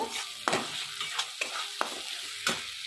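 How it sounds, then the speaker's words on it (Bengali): Cumin powder and Kashmiri chilli are stirred through chicken in a hot pan, a soft continuous sizzle punctuated by four or five sharp scrapes of a spoon. "দিয়ে ভালো করে আমি নেড়ে নেব"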